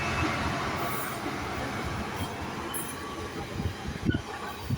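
A passenger train passes South Kenton station close by, a loud steady rumble of wheels on rails with sharp squeals and clattering bursts toward the end.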